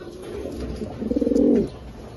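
A single soft, throaty cooing call from a nearby racing pigeon, rolling and pulsing for about a second over quiet background noise.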